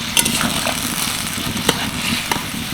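Water poured into frying spices for a Bengali potol (pointed gourd) curry sets off a steady, close sizzle that hisses evenly throughout, with a few faint clinks of a stirring utensil against the pan.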